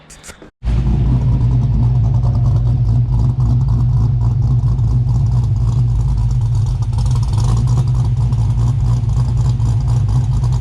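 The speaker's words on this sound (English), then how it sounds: "Really love the idle on this thing" An LS1 V8 in a VN Commodore idles with a deep, loud, lumpy rumble that runs steadily for about ten seconds after an abrupt start, close by in a single-car garage.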